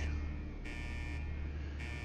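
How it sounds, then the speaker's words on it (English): An alarm buzzer in Fallout 4's Far Harbor keeps sounding as a steady tonal drone that pulses in long, even cycles, with a persistent low hum underneath. "Why is the damn buzzer still going off?"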